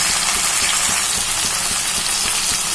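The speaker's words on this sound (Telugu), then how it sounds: "టమాటాలు బాగా మగ్గిపోవాలి ఇందులోనే సాల్ట్ కూడా వేసి మగ్గిస్తున్నాను" Chopped tomatoes with salt cooking down in a pan, a loud, dense, continuous sizzle and bubbling that stays even throughout with no voices.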